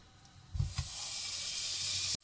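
Butter sizzles loudly after hitting a hot pan, a steady hissing fry that builds quickly and holds, with a couple of soft knocks as it goes in, while cooking a béchamel for beef lasagna.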